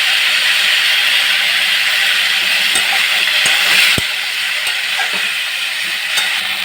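Ol greens, the leaves of elephant foot yam seasoned with salt and turmeric, being stirred and fried in a pan, making a loud continuous sizzling hiss broken by scattered scrapes and taps of a spatula.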